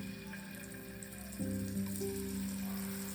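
Elephant foot yam slices coated in masala frying in oil in a home kitchen, a steady close sizzle that jumps louder partway through and keeps hissing evenly.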